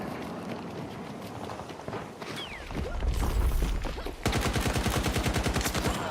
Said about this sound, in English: Got a couple hip fires here.